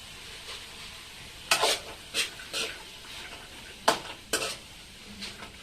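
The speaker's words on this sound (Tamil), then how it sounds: "அதை 1 நிமிஷம் வதக்கிடலாம்." Peas, carrot and beans sauté in a pan for kothu chapathi under a soft, steady sizzle, broken by several sharp scrapes and clatters of a spoon stirring against the pan, with no speech.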